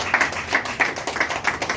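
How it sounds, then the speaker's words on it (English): Applause from an audience at a real estate company's eighth anniversary event in Lagos: a brief patter of claps, fairly close and uneven, with no one speaking over it. "give RevolutionPlus property a round of applause for that"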